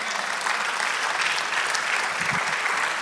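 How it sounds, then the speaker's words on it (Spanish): A church congregation at a Spanish-language service claps in steady, continuous applause, a full hiss of many hands close by with no pauses. "Denle aplauso al Señor."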